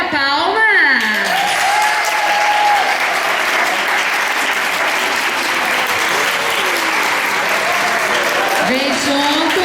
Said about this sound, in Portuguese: nós vamos iniciar com o aluno Vitor Raposo, na passarela palmas.